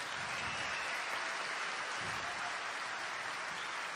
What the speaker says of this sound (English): the producers of this show actually deserve a wonderful round of applause